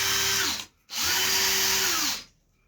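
An electric drill in a garage runs in two loud bursts, a short spin, a brief stop, then a longer steady whine that winds down at the end.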